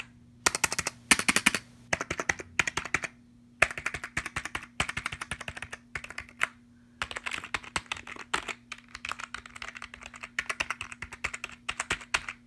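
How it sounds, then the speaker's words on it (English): Rapid clattering keystrokes on a Tecknet computer keyboard come in close, crisp bursts with short pauses, tapping out quick irregular runs over a faint electrical hum. "Tecknet keyboard, feels great, sounds great."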